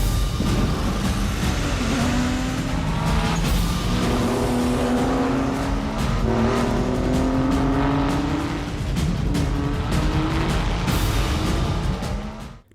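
Street race from a film between a Nissan Cefiro A31 and a Ford Mustang: loud, steady engine roar with rising and falling revs and gear changes, cars close throughout, ending abruptly.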